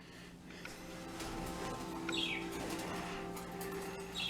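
Pet birds chirp intermittently in a cage, with a few brighter tweets standing out over a steady low indoor hum and occasional rustling.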